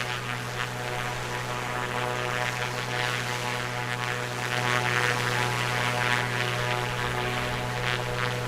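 An A2A Comanche propeller plane drones steadily in flight during a night flyover in Microsoft Flight Simulator 2024, a constant engine and propeller hum with no talk.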